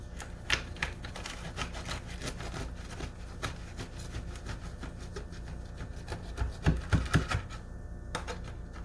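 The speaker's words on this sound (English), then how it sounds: "so let's cut a piece of this" Knife sawing through a piece of hot focaccia bread, a close run of rapid rasping, crackling strokes with a denser burst of cutting near the end and no talking.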